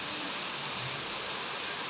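Heavy rain pouring down around a house in a dense, steady hiss that fills the whole moment, loud and unbroken, with no voices.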